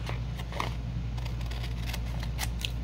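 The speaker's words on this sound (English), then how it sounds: "So we're going to cut that part down where it's folded." Scissors cut along the fold of a vintage book page, giving a string of crisp, close snips over a steady low hum.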